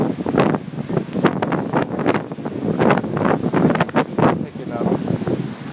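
Strong wind buffets a stormy beach as huge waves crash nearby, a dense roaring wash in heavy surges with rain blowing in; a voice speaks over it.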